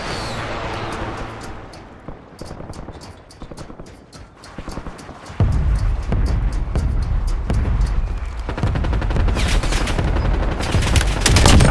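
Gunfire in a Call of Duty Warzone Resurgence match with an M4 and HDR: rapid repeated shots crackle in a steady rhythm, growing denser and heavier partway through with booming low impacts, loud and close throughout without talk.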